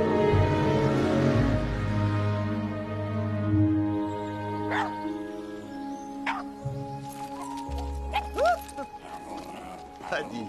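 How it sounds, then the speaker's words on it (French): Dogs give short yips and a thin, rising whimper under steady dialogue, with the animal sounds fairly faint behind the voices. "Lâcher les chiens maintenant."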